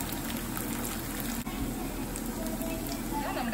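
Cauliflower pieces deep-frying in hot oil for restaurant-style Gobi Manchurian, a steady close crackling and bubbling that holds evenly throughout with no voices.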